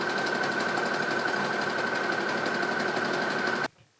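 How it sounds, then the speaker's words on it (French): A sewing machine with a jersey needle runs a steady, fast seam stitching jersey bias binding onto a t-shirt, 1 cm from the edge. The close, continuous mechanical whir runs about three and a half seconds, then cuts off. "Maintenant, je vais faire une couture à 1 cm du bord."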